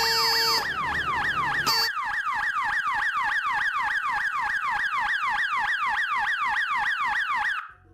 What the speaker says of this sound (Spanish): Aquí está la alarma vecinal, que se le pueden adaptar estos sensores en las puertas y ventanas, y si alguien se mete, se dispara automáticamente.